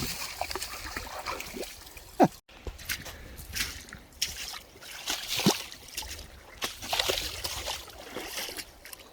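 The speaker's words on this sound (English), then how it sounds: "How it cascades over the granite like that" Water cascading over smooth granite rocks in a river at a small waterfall, a steady broadband trickle and splash with a few sharper drops, close and moderately loud throughout.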